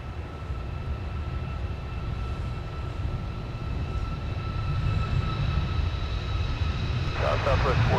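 An Icelandair airliner departs from MSP airport, its jet engines producing a steady, distant roar that grows slightly louder toward the end, with a faint whine tone over the rumble.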